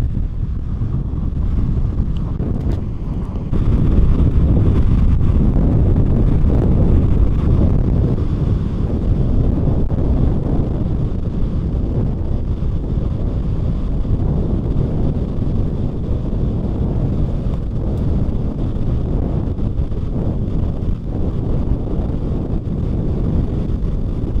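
Strong wind buffets the microphone in a loud, continuous low roar with no voices, like gusts blowing hard on a beach at Pescara by the sea.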